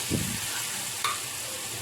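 A ground bhedailota (skunkvine) paste sizzles softly in a pan, with a brief scraping stir at the start and another around the middle, faint and close with no talking.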